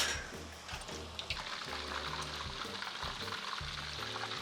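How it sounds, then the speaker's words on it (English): Lion's head meatballs deep frying in oil heated to 350 degrees in a wok, a steady close bubbling sizzle with faint scraping and clinks of utensils. "I like deep frying in a wok because it doesn't use up as much oil."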